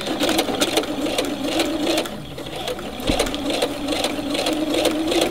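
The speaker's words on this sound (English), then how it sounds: "So now I'm going to sew right along this edge here on both of them." Household sewing machine running a seam along the edge of fabric pieces for a flower pillow sham, a close, fast, continuous mechanical whir with a short pause partway through, with no talking.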